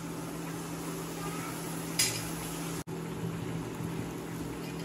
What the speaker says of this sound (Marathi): आता टोमॅटो टाकले तर मी 1 मिनिट याला शिजवून घेते।